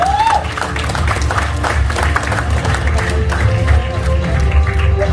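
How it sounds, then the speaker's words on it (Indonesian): An audience applauds a top leader at a company gathering, steady clapping and crowd noise under a loud hall ambience, with a short voice at the start. "Tepuk tangan Bapak Ibu."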